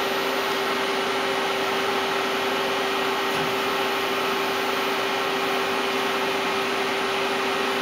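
Live tools on a Star SB16C CNC Swiss lathe spinning at 1000 RPM, a constant loud machine whir with a steady tonal hum and broadband noise that holds unchanged throughout.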